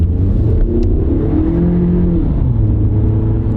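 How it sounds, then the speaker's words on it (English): A car engine pulls up through the revs as it accelerates away from a turn, a steady, close mid-pitched drone with rising harmonics that sweep upward, then ease as it shifts. "Give it a little gas."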